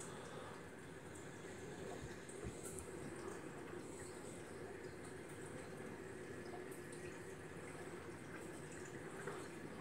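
Water drains down a private house's sewer pipe during cleaning, a steady rushing and gurgling flow that runs continuously and evenly throughout, with no talking.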